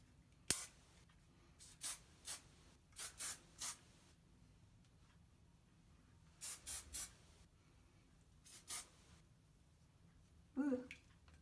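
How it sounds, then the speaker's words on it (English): Chi Enviro hairspray misted onto hair during round-brush styling: a series of short, soft aerosol hisses, some single and some in quick pairs or triples, spaced irregularly over a quiet room background. "I'm using Chi Enviro hairspray"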